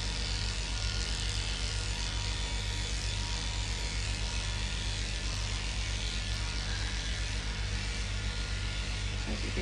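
Electric clippers run over the body of a 15-year-old poodle during grooming, giving a steady close buzz with a low hum that stays even and unbroken throughout, with no talking.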